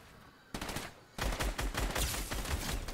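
Rapid automatic gunfire from a Fortnite match bursts in loud and dense, stepping up to an even heavier sustained volley after about a second.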